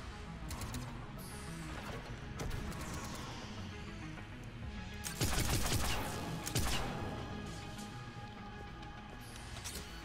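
Gunfire during a fight against the Geth in Mass Effect 3 Legendary Edition: repeated, fairly quiet bursts of shots and impacts spread through the stretch, densest around the middle, over steady game ambience.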